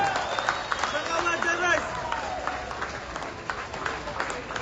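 An audience claps and cheers at the 5th World Nomad Games, a sustained wash of applause with a host's voice talking over it.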